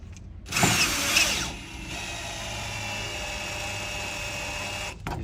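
Power driver spinning a socket with a 4 foot-pound torque limiter to set a Spanware standard tension anchor against a wall: a loud short whir, then a steady lower mechanical hum until it stalls, close and alone.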